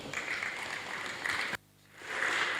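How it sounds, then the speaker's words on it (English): An audience applauds at the NATE technologists' Confotech conference in Lagos, a steady wash of clapping that breaks off briefly midway, then swells back up. "A better round of applause for her."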